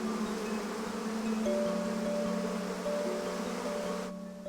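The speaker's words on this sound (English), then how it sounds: "This is a tree that bees absolutely love." Bees buzz around a flowering Cercis 'Forest Pansy' tree in a spring garden, a soft steady hum with a few closer passing drones, faint and outdoors, ending abruptly.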